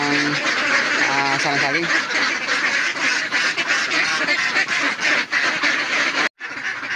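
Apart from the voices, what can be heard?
ducks quacking while being fed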